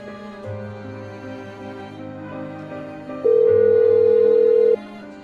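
An outgoing phone call rings: a steady tone with a layered musical background, then a loud sustained ringback tone lasting about a second and a half, close and clear.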